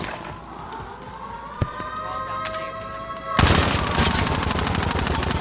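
Video game gunfire: scattered shots with one sharp crack, then from about midway a loud, sustained machine-gun burst with evenly spaced rapid rounds running to the end.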